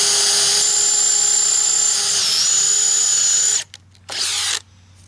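A DeWalt Xtreme 12V subcompact drill whines at high speed while boring into wood, a loud sustained motor tone that dips briefly in pitch, stops abruptly, then gives one short burst.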